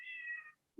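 A cat meows in one long, loud, drawn-out call, then goes quiet; a short low thump follows at the very end.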